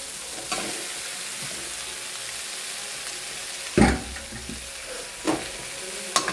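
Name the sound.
tomatoes added to a sizzling frying pan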